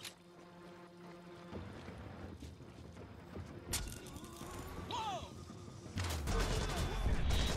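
Several sharp gunshot bursts ring out over a busy Splinter Cell Blacklist game soundscape, with a heavier volley near the end.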